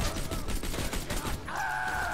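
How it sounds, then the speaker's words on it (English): Gunfire in the video game Borderlands 2, a rapid burst of shots rattling over the first second and a half, then a sustained whining tone takes over, with faint talk underneath. "because I was shooting at Lane,"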